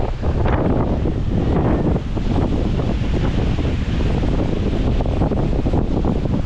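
Strong typhoon wind roars steadily by the sea with surf and wave spray, a loud continuous blustery rush with gusty swells throughout.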